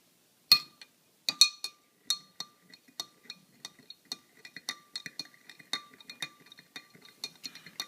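A utensil stirs a solution in a laboratory glass, clinking against the sides in a run of bright, irregular taps, louder at first and then quicker and softer.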